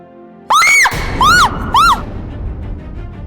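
A woman lets out three loud, high screams in quick succession in a Hindi serial scene about a snake in the house, each shriek sharp and rising and falling, with a low background murmur continuing after.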